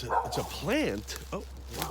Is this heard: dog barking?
yes